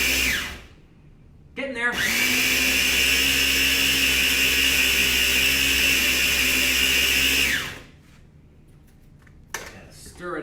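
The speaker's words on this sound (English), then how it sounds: "So we're going to just grind this up until it is a fine cookie powder." A grinder whirs loudly and steadily for about six seconds, pulverizing cookies into fine powder for Disney-inspired treats, then winds down; a voice speaks briefly in the quieter stretch afterward.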